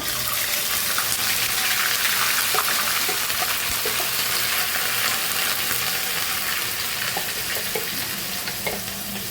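Onion paste sizzles steadily in a pot of hot oil with whole garam masala for chicken korma, a loud continuous frying hiss with light stirring scrapes, no voices.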